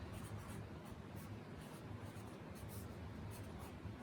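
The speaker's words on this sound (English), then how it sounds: "I'm going to use a marker just so you can see it better, I would write logical adjective" A marker writing on paper, a close continuous scratchy squeak of the tip moving in quick strokes, fairly faint, with no talking over it.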